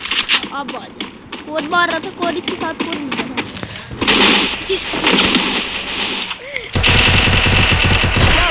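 Gunfire in the mobile battle game Free Fire comes as rapid automatic bursts, loud and close, building to a dense sustained volley while players talk excitedly over it.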